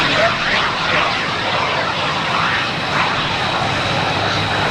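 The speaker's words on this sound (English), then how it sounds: "flying a maneuverable jet aircraft as a civilian aviator" A JSX-2 jet flies past at an airshow, a loud continuous roaring engine wash with a slowly shifting pitch, heard throughout while an announcer talks over it on the public address.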